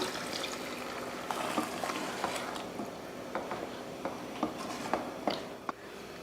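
Water poured into sautéing mutton masala in a pan for a Bakrid mutton dish, a steady liquid wash with soft sizzle and scattered clicks and taps, moderately close with no talk.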